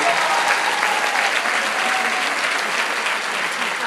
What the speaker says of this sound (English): Give her a round of applause for Pamela.